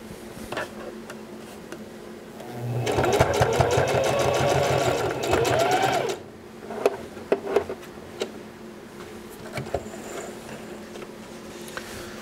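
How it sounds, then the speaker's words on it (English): Sewing machine stitching a seam on an Old West style tie, a steady mechanical whir with fast needle ticking that runs for about three seconds mid-clip, then stops, leaving faint clicks and handling noises. "Now we're gonna go ahead and sew that seam up there."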